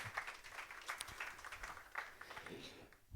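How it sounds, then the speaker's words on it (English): Applause from a conference audience welcoming a speaker on SIP and Element telephony, a moderate, fairly distant patter of many hands that continues for a few seconds and fades near the end. "Big round of applause, please."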